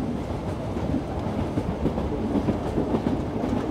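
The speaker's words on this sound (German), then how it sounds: "Im Katalanischen wird der Zug übrigens El Tren Groc genannt." The Yellow Train on the Ligne de Cerdagne narrow-gauge line through the Pyrenees runs along loudly, a steady rumbling roll with a repeating clickety-clack of wheels over rail joints, heard close with no voices.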